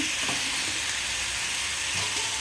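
Chopped tomato pieces frying in a pan, giving a dense, even, hissing sizzle that holds steady and loud for the whole stretch.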